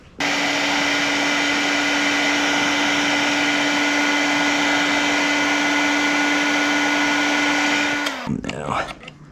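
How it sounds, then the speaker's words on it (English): A heat gun blows hot air on a Honda engine part, a loud, steady whirring roar with a constant hum that runs unbroken close up for about eight seconds, then cuts off, leaving brief clatter. "I think we need the heat gun again."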